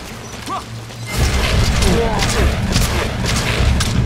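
Bursts of gunfire in Metal Gear Solid Ground Zeroes, a dense volley of loud, close shots and booms starting about a second in, with mechanical clatter layered through the firefight.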